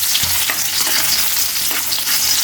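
Chopped ginger stirred and fried in a hot pan, steady sizzle of hot oil throughout, with a few scrapes of the stirring spoon, close and without talk.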